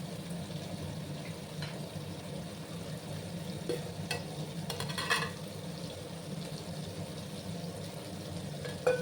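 Paneer frying lightly in a pan while being stirred, a soft, even sizzle with occasional faint spatula clicks and scrapes.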